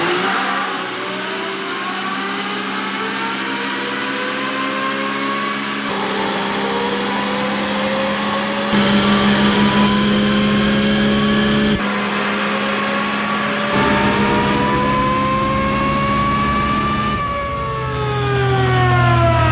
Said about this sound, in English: we just wrapped up our dyno runs and we've got great results to show you